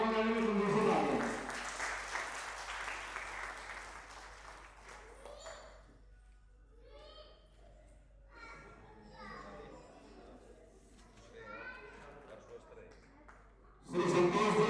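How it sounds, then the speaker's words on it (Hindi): Guests at a retirement ceremony clap to welcome an honoree, a short applause burst that fades into scattered voices and children chattering, then a fresh burst of clapping at the very end. "कृपया तालियों के साथ स्वागत करेंगे।"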